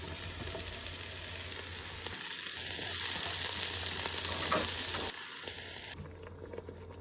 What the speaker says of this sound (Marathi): तेचे आतां न्ही हांव टोमॅटो घातां.